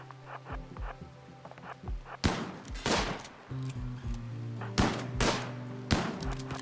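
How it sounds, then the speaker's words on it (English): Gunfire in the video game RimWorld during a mech hive raid, with repeated loud bursts of shots in quick volleys over a droning game background. "No, don't shoot at them."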